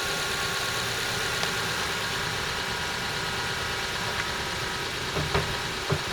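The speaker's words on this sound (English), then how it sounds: "You'll notice I'm running the engine to warm the oil through." A Suzuki Jimny engine idles steadily to warm its oil, a continuous mid-pitched running note with slight vibration and a few faint knocks and clicks near the end, no voices.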